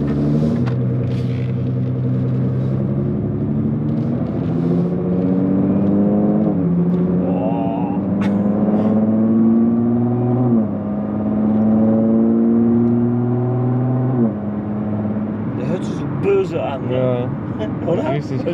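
A stock Nissan GT-R tuned to 700 hp drives along, its engine droning and rising through several revving gear pulls beneath a steady road rumble, while people talk inside the car.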